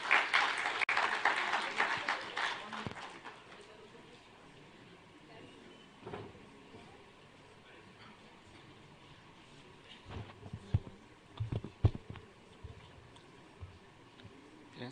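Audience applause at an ICAI Iconic Day celebration in a hall, loud and dense for the first few seconds and then fading into a low murmur of room noise with a few scattered later bursts.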